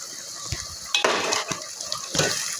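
Corned beef frying in a pan on a stove, a steady close sizzle with a few scraping stirs and utensil clatters against the pan, no talking.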